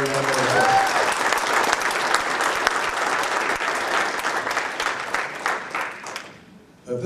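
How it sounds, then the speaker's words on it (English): An audience at a council annual meeting breaks into loud, sustained applause, a dense wash of many hands clapping that fades out toward the end. "I'd like to take another round of applause for Craig for that and the other."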